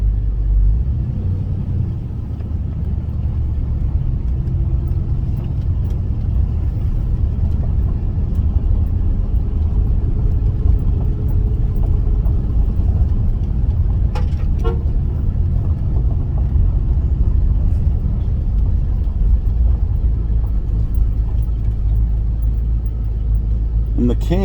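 A 1978 Pontiac Trans Am with a 400 engine and four-speed gearbox drives along, its low rumbling exhaust steady and loud from inside the car over road noise.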